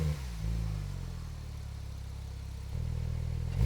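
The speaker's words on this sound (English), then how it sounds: "Here's what the engine sounds like." A 2014 Porsche 911 Turbo with quad exhaust pipes idles steadily with a deep, even engine drone, stepping up slightly in loudness near the start and again toward the end, heard close with no talking.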